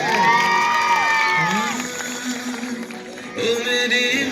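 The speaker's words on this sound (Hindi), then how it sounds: "जोरदार ताली हो जाए।" Audience at a school Republic Day annual function cheers, whoops and shouts, with children's voices rising over sustained tuneful vocal sounds, loud and close throughout.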